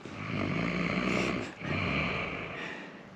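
A person snoring heavily nearby, a steady rasping drone that swells and fades with each breath across two long cycles, with no talk.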